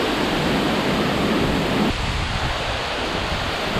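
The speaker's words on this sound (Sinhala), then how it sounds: "මාර වතුර පාරක් තියෙන්නේ" Water rushing at Babarakanda Waterfall in Sri Lanka, a loud, steady broadband roar heard up close for the whole stretch, with a slight dip in its low rumble partway through.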